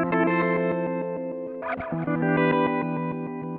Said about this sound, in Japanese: ダイレクト音がなくなって逆再生音だけになります。